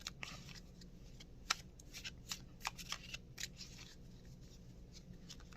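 Tarot cards being shuffled by hand, a soft irregular run of quiet riffling and flicking strokes with a few sharper snaps, close and fairly faint, with no talking.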